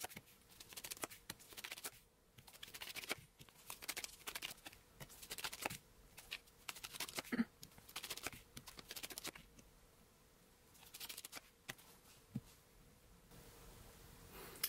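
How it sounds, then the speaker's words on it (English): Tarot cards are set down and shuffled in a quiet room, a series of soft papery slaps and brushes arriving in short bursts, separated by brief near-silent pauses. "I'm just going to put these cards down"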